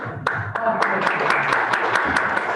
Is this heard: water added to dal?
no